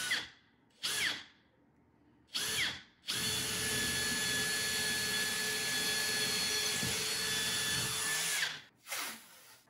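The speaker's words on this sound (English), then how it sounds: "Let's drill some holes." A cordless hammer drill whirs into drywall in several short bursts, then runs steadily for about six seconds before stopping, followed by another quick burst; close and loud.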